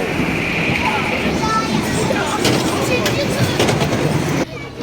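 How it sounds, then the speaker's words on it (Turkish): A small amusement park mini train rumbles along steadily with a continuous mechanical clatter, people chattering and shouting nearby, then the noise drops off abruptly near the end. "Evet şimdi de mini trene bineceğiz."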